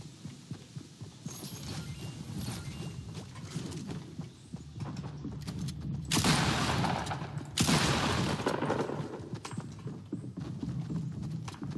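Gunfire in the video game Fortnite, a steady rapid thudding of shots running throughout at moderate distance, swelling into two louder, harsher bursts partway through.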